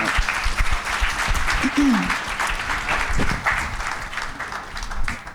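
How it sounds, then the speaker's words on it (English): An audience applauds after a talk at a professional presentation event, giving a dense, steady round of clapping throughout, with a voice briefly heard over it. "Can we give Amani a round of applause?"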